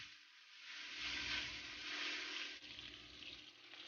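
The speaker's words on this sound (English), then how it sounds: "I'm just gonna brown my pork, right, for about 2 to 3 minutes before I add my mushrooms" Pork browning in a hot pan, giving a steady, soft sizzling hiss that swells slightly and then settles, quiet and continuous with no talk.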